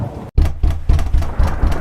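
Cartoon rainstorm in a deserted forest, with heavy rain pouring steadily and rumbling thunder rolling in repeated loud bursts after a brief moment of silence near the start.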